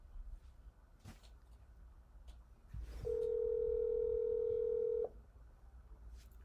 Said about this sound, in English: it's going to hit the little video call icon